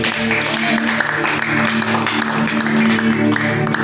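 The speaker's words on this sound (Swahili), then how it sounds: "Tumpige Yesu makofi." A church congregation claps together in praise of Jesus, a dense, continuous wash of applause filling the room, loud and close, with voices mixed in.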